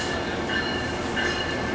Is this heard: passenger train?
yes